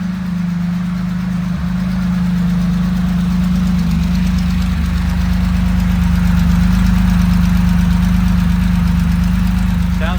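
A 1977 Porsche 911 Targa engine idles at the rear of the car, a steady low hum that holds even and constant throughout and rises slightly toward the end.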